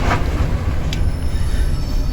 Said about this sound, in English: You can see here the high output train is passing the site with the sleepers taken out of the Didcot lines last weekend.